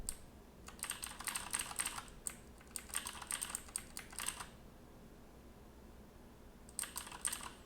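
Rapid keystrokes clatter on a computer keyboard in several bursts separated by short pauses, close and crisp with no voices.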